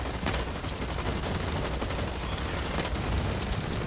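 Rapid combat rifle fire in the shooter game Blacklight Retribution crackles continuously with dense repeated shots, fairly quiet and steady throughout.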